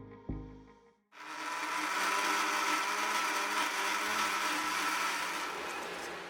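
An electric mixer grinder blending roasted spice powder, chilli powder and salt for tomato pickle starts with a brief clunk, then roars loudly and steadily for several seconds.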